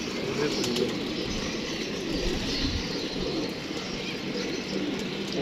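Pigeons coo in a loft, a soft continuous murmur of low cooing mixed with faint chirps and the odd wing flutter, steady and fairly close throughout.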